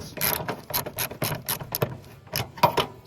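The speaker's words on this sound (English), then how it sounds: "So really I only need to loosen this side." A ratchet wrench loosens a bolt on a 1983 GMC C70 truck, giving rapid, close clicking ratchet strokes in quick rhythmic bursts, moderately loud with no speech.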